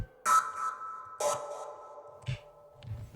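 Ethereal, spacey machine-drum hits from the Uncivilized Grooves library ring out in a sparse pattern: two bright, shimmering tonal strikes with sustained metallic tails, then softer low thumps, alone with no talk.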